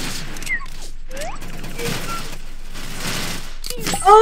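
Video game gunfire from the game Arsenal Destruction crackles in dense, rapid bursts under loud game sounds and effects, with a brief louder shot near the end.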